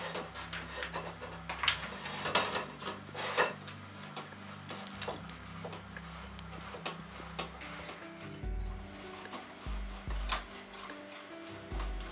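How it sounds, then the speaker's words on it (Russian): A 150–200 gram piece of cheese is rubbed over a coarse grater in a run of quick, rhythmic rasping strokes, fairly close, over a low steady hum, for cheese flatbreads. "Беру кусочек граммов 150-200 и натираю не на самую мелкую терку, можно даже на крупную"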